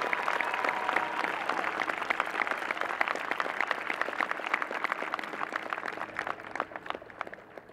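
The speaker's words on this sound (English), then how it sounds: "So if you will all join me in giving a round of applause to all of the outstanding people that made that happen." A graduation audience at Sabino High School applauds, dense overlapping clapping throughout that gradually thins and fades toward the end.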